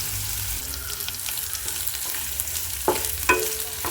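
Onion, ginger, green chili, curry leaves and dried red chilies sauté in hot oil, a steady close sizzle with scraping stirs and a couple of sharper spoon clanks near the end.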